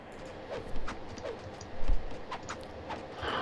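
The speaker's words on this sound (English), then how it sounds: "Light horses." Light cavalry hooves clop in a Rise of Nations strategy game match, with irregular soft hoof beats and faint clicks over a busy in-game background, no talking heard.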